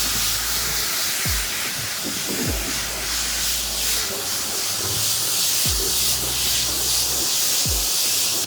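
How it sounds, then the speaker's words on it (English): 303 Spray & Rinse ceramic sealant is sprayed onto a car's wet paint in a steady, close hiss that runs unbroken, with occasional soft low thumps underneath. "Now, just gonna apply the sealant, and it'll kind of more sheet right off."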